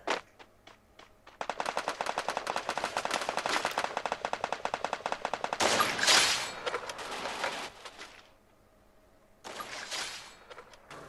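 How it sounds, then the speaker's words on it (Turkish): Bursts of automatic gunfire from the Free Fire video game, with rapid rattling volleys in several long strings separated by short quiet gaps. "Abi ne taraftan sıkıyorlar?"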